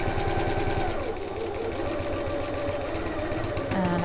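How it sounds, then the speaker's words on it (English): A sewing machine runs steadily, sewing a back stitch down the sides of an evening bag, its close, even motor hum and needle rhythm continuous for about four seconds. "I'm going to start at the top with a back stitch and sew down the sides"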